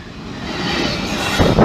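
Class 66 diesel freight locomotive passing a rail level crossing, a loud, close rumbling roar that builds over a couple of seconds with rising engine and wheel noise.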